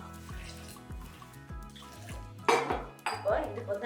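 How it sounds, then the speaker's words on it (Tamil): A whisk stirs instant idli flour and water in a bowl, giving repeated metallic clinks and scrapes against the bowl in an uneven rhythm, with a few sloshing splashes near the end. "விஸ்க் வச்சு நல்லா அந்த மாதிரி கலந்து விட்டோம்னா கட்டியெல்லாம் விழுகாது"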